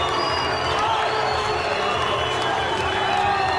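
At a 2002 mixed martial arts event, an arena crowd cheers, shouts and murmurs steadily as a fighter enters the ring, a dense, continuous roar at moderate distance.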